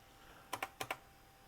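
Four quick, crisp key presses on a computer keyboard during an OS/2 2.0 installation, given as two close pairs of taps, faint and close-miked with no talk.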